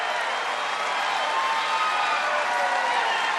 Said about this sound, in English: You hear the crowd in Arizona. You hear how they respond.